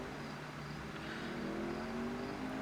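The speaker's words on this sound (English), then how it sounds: "someone's off on their little motorcycle or crotch rocket, whatever" A small motorcycle or sport bike passes outside, a faint rising engine drone heard from indoors that climbs in pitch and grows slightly louder over a couple of seconds.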